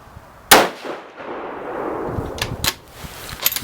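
A single sharp rifle shot from a 6mm ARC loaded with 32 grains of powder cracks loudly near the start, followed by a ringing decay and a few faint clinks afterward.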